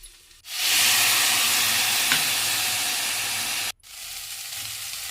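Loud, steady sizzle of rice frying in a hot pan as vinegar and dark soy sauce hit it, a close hiss that cuts out briefly near the end before resuming more softly.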